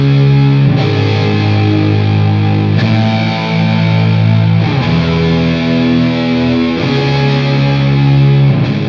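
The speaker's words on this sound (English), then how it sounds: "I use the Musket fuzz to get an extremely massive, huge sort of fuzz bed guitar sound" Electric guitar driven through a Musket fuzz pedal, playing big, fat sustained ambient chords with a massive, saturated fuzz tone and swell reverb, loud and continuous with a new chord struck roughly every two seconds.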